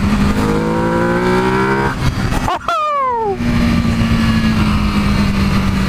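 An EBR 1190RX motorcycle engine revving and accelerating in second gear, heard loud and close with rising pitch, a brief dip at the shift, then a steady drone under wind noise.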